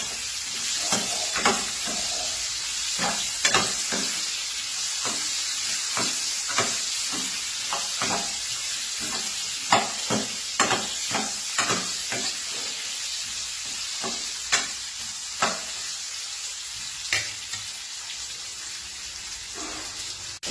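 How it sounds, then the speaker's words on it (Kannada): Raw mango pieces sizzle and fry in a pan with a little asafoetida while being stirred. A steady close hiss runs throughout, broken by repeated scraping knocks of the spoon against the pan, and no one speaks. "ಮಾವಿನಕಾಯಿ ಹೋಳೆಲ್ಲ ಹಾಕೋಬೇಕು. ಹಾಕಿ ಚೆನ್ನಾಗಿ ಫ್ರೈ ಮಾಡ್ಕೋಬೇಕು."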